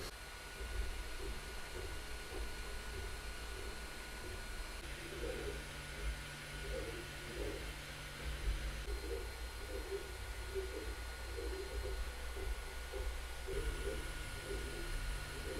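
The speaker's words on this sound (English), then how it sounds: "most of the noise is coming from the fans, but there is a little bit of stepper sounds." Steady low hum of a Creality Ender-2 Pro 3D printer with a whirring fan tone and faint, intermittent mechanical chirps from stepper motors, fairly quiet and continuous.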